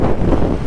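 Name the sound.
wind blowing into the microphone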